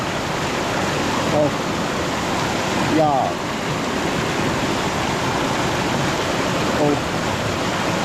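Swollen river water rising after heavy rain rushes past in a loud, constant broadband roar, with a man briefly calling out a couple of short words over the torrent.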